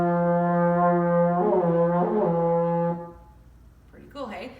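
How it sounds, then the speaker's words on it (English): A euphonium sustains a steady low brass note for about three seconds, then fades out, followed by a brief quiet stir. "when we put it into the euphonium, it sounds something like this."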